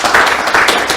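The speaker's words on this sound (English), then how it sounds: "Big round of applause." A studio audience claps and applauds in a steady, dense burst lasting about a second, moderately loud with no talk over it.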